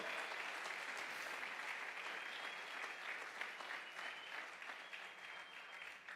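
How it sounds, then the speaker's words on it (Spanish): Worshippers in a Spanish-language church clap for the Lord, a dense, continuous roar of many hands filling the room at a steady level with no voices standing out. "Dele palmas al Señor."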